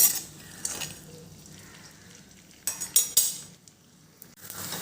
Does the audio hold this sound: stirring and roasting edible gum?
yes